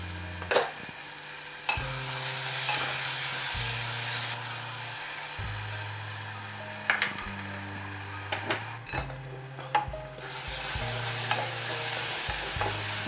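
Tomato frying and being stirred in a pan while cooking down to a paste for palak paneer: a steady soft sizzle under repeated scraping strokes of a spoon, with a few sharper clinks against the pan throughout.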